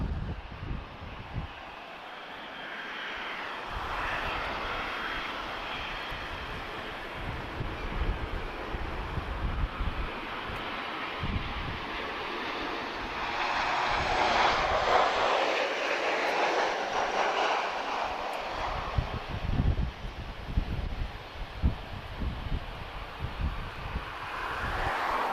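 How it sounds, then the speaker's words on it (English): A Ryanair Boeing 737-800 airliner touches down at Lisbon Airport, a broad continuous jet roar with wind buffeting that swells toward the middle and stays steady, heard from a distance with no talking. "Okay, so Ryanair's just about to touch down now."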